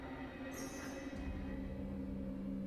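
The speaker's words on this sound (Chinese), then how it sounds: "我们坐的可是火车呀" A passenger train runs steadily, with a constant low rumble and drone and a brief high squeal near the start. No one speaks.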